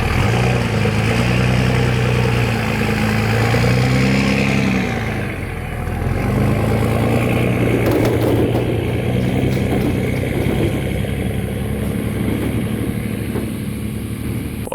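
A Cummins-swapped truck engine rumbles steadily at close range, its low drone rising and settling as it pulls a trailer out of a long-parked spot, with no talk over it.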